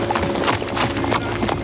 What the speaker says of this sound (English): I will get the horses.